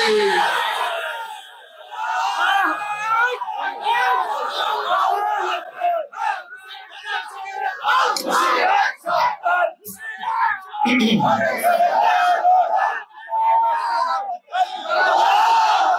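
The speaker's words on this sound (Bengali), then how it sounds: "শুধু হাত তুলে তাকবীর দিয়ে দেখান দেখি" Large crowd at an Islamic sermon shouting takbir together, loud massed voices rising in repeated waves and swells of chanting, filling the space for several seconds at a time.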